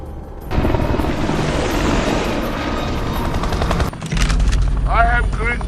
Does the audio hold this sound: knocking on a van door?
no